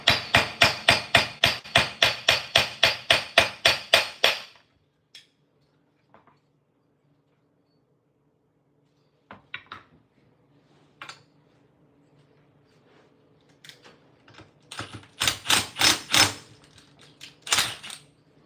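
A flywheel is being worked off a Stihl 050 chainsaw. A quick run of about a dozen rhythmic metallic taps comes first, then a long quiet stretch, then scattered knocks and another burst of close clanking strikes.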